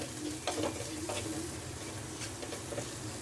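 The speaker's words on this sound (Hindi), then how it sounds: "सबको डाल के अच्छे से मिक्स देंगे।" Dry spices such as red chilli and salt being mixed into an idli mixture in a hot pan, a continuous frying sizzle with soft repeated scraping and stirring strokes, close and steady.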